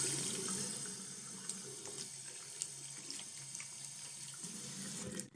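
Tap water runs steadily as hair extension wefts are rinsed under a sink faucet, a continuous splashing hiss with a few small clinks, close and alone throughout.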